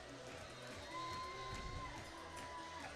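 A high school football crowd cheers in the stands, a broad, fairly distant roar with scattered shouts, while a commentator talks over it.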